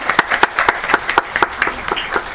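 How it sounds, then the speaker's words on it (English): Council chamber audience applauding a proclamation for National PE and Sports Week, a close, lively patter of hand claps that continues steadily throughout without speech. "So let's give them a big round of applause."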